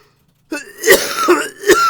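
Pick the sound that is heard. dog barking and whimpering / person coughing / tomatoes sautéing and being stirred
person coughing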